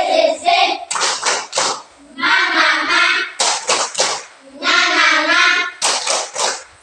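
Children in an Indonesian classroom icebreaker do a rhythmic clapping chant, bursts of quick hand claps alternating with sung call-and-response voices, close and loud.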